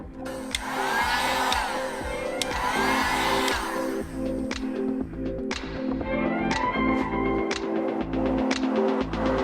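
A heat gun warms a vinyl overlay on a car taillight, producing a steady, close blowing whir with a constant motor hum that runs the whole time without a break.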